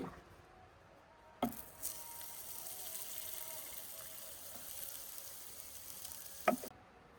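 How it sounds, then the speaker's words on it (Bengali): Butter sizzles softly in a frying pan as the base for a caramel sauce, a quiet steady hiss with two sharp clinks at the start and near the end. "সসটা বানানোর জন্য প্রথমে আমি ফ্রাই প্যানে একটু বাটার দিয়ে দিচ্ছি"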